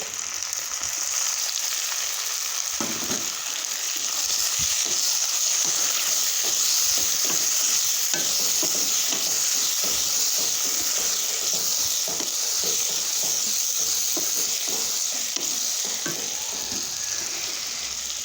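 Loud steady sizzling as chopped tomatoes go into frying spinach bhaji with pigeon pea beans, with repeated scraping stirs of a spoon in the pan running over the hiss.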